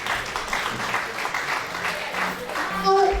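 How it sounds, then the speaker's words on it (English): A conference audience gives a round of applause, a thin, fairly distant scatter of clapping under a murmur of voices, with a brief tonal sound near the end. "Give a round of applause,"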